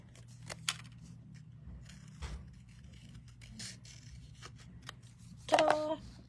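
Scissors cut along paper edges for a craft envelope, with a few soft snips across the clip and a louder, crisper cluster of cuts near the end, while a person talks quietly.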